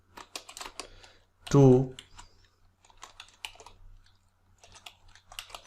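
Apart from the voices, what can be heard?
typing on a computer keyboard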